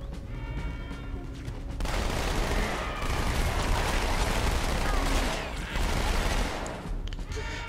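Sustained gunfire from a weapon in Halo 2: Anniversary, dense rapid shots starting abruptly after a quieter opening and continuing loud and steady, with battle noise and possible game voices underneath.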